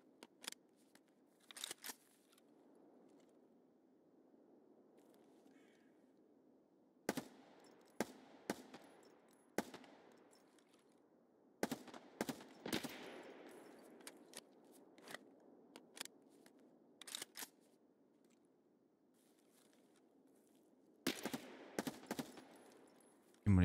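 Gunfire in Escape From Tarkov, sharp separate shots and short bursts spread through the clip, some close and loud, others fainter, over a low steady background rumble and with no talk.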